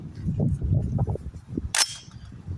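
A single suppressed shot from a 300 Blackout rifle firing 220 grain Federal subsonic rounds through an Energetic Armament Box K suppressor, a short sharp crack with a brief tail over low outdoor rumble.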